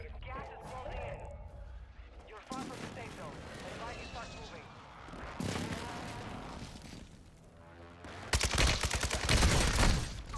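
Airstrike explosions and bursts of gunfire in a first-person shooter video game, with rough, crashing blasts building to a loud, rapid crackling barrage near the end, mixed under players talking.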